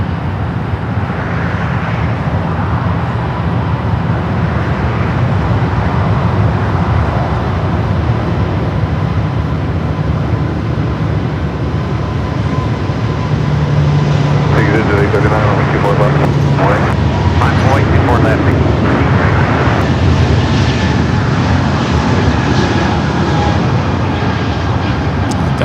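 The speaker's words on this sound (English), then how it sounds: "let's go to the Air Canada Airbus A220-300, now rolling down to 4 left" An Air Canada Airbus A220-300 taxis toward runway 4 left at Los Angeles airport, its engines a loud, steady roar with constant broadband airport noise and someone talking over it.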